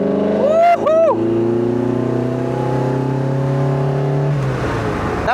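A Lotus Elise 340R engine revs hard in third gear, a loud close droning roar with rising pitch sweeps early on and a steady sustained pull afterward, with a brief exclamation over it.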